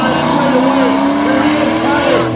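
A stock car races hard into a corner at Dragway 42, its loud engine droning close by with shifting pitch, tires squealing, and a voice faintly under the roar.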